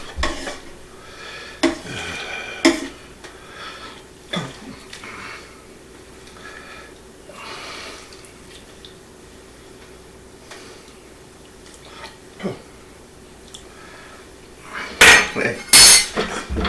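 Bowls and dishes clink and knock while lentil soup with spicy sausage is plated in a home kitchen: a few sharp, separate ceramic taps early on, a quiet stretch, then a louder cluster of clatters near the end. A voice speaks briefly.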